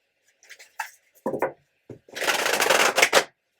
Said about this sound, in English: right now, I am shuffling the Sacred Creators Oracle